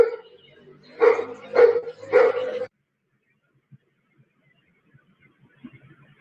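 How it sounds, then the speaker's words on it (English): A dog barks three times in quick succession before an earthquake, the barks close and fairly loud, followed by near silence broken only by faint scattered ticks. "that dog was barking for a hot minute before it hit"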